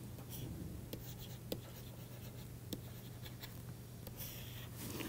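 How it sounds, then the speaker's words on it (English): Chalk or marker scratches and taps across a board as a theorem is written out in a lecture room, quiet strokes with sharp clicks at irregular intervals over a low steady hum. "So let me write it as a theorem."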